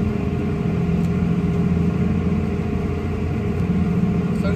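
A combine harvester with a full hopper drives across a field during corn harvest, its engine droning loud and constant from close by, with a steady mechanical hum and no speech.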